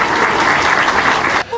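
Steady, dense applause at a children's funeral in Blumenau, held alone at full strength and then cutting off sharply just before the end.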